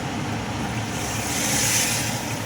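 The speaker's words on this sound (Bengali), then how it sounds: "জল গরমটা আমার হয়ে গেছে, ঢেলে দেবো জল গরমটা।" Hot water being poured from a height into a large pot of vegetarian khichuri, a steady, rushing splash that holds its level without pause.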